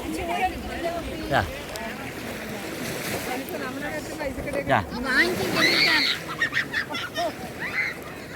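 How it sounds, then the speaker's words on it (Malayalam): A fish at sea off Lakshadweep during a kayaking trip makes duck-like croaking honks in short bursts, heard amid voices and the wash of waves. "ഈ മീന് കൊക്കന്ന് സൗണ്ട് ഉണ്ടാക്കുന്നുണ്ട്, താറാക്കോഴിൻ്റെ മാതിരി."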